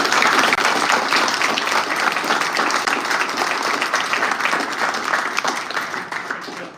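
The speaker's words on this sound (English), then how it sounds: "If you could give them a round of applause, please." An audience at a live London transport campaign event applauds its panelists, with dense sustained clapping that fills the room and slowly fades toward the end.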